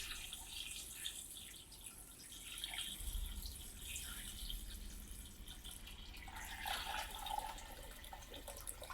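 Water pours and splashes steadily into a stock pot over chicken, a continuous rushing hiss with sloshing surges, moderately quiet and close by.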